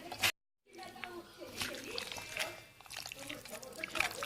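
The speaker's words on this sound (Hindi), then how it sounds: "इसका मैंने निकाल लिया जूस और इसमें डालने लगी हूँ।" Freshly squeezed orange juice poured into a yogurt chicken tikka marinade, a close trickling pour with soft splashing after a brief silent gap, with someone talking over it.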